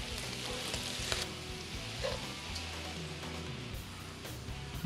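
Suadero and chorizo sizzle in a frying pan, a dense continuous crackle and hiss with scattered pops, close and steady with no talking.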